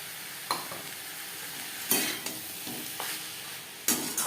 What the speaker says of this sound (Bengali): বাঁধাকপি বেশ ভালো করে মিক্সড করে দেব।